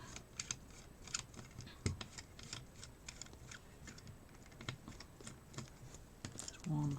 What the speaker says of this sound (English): Let's just take these screws out.